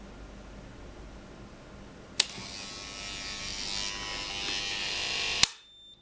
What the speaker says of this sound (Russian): Отключился автомат. Вернее, отключился его один полюс прогружаемый.